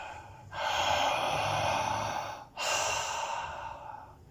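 Two deep, breathy exhales during breath work, each a long close airy rush of air with a brief pause between them, with no talking.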